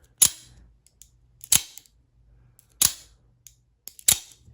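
A Lightning OTF knife's blade fires out four times, each a sharp, close mechanical snap with a brief ringing tail, separated by quiet gaps of about a second.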